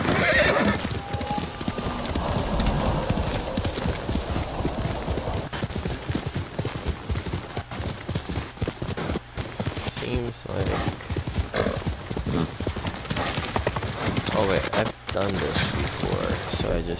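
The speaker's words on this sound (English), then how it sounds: "Horsey, it's safe now." In a video game, a horse's hooves clip-clop steadily while it neighs. The sounds are loud and continuous under game sound and a person talking.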